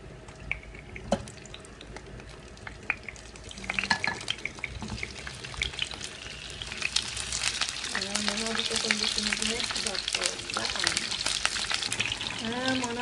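Meat sears in hot oil in a pot, a continuous sizzle with scattered pops and stirring clatter that grows denser and louder toward the end, with faint voices in the background.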